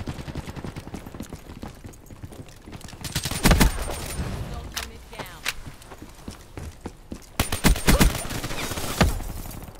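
Gunfire in a shooter video game: sharp bursts of shots crack out around the middle and again near the end over steady game noise, with loud, dense volleys.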